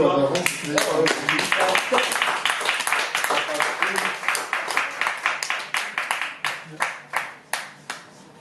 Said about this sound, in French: si on peut applaudir encore